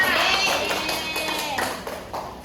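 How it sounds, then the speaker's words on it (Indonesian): A short burst of clapping from a class of students for a classmate during a civics lesson, fading out over a couple of seconds amid a few voices. "Oke, tepuk tangan untuk Musnawa"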